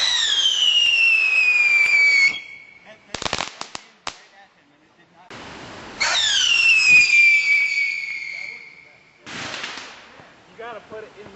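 Fireworks go off outdoors as separate bursts, with shrill rising whistles, sharp cracks and pops, and brief quiet gaps between launches.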